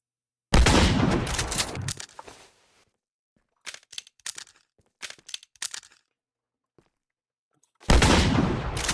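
Gunfire in a modded Minecraft game: a loud burst of rapid shots, then a string of short separate cracks, and another loud burst at the end, all close and with no talk.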